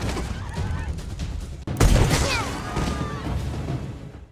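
A sudden sharp gunshot blast cuts through a busy, noisy film action scene, followed by whooshing and rumbling debris; the action continues chaotically around it.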